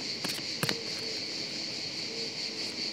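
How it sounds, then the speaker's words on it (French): Crickets chirp in a pine forest, a steady high shrill drone with a few brief louder pulses near the start, no voices over it. "nous allons pratiquer la méditative avec le bruit, le chant des grillons dans la pinède"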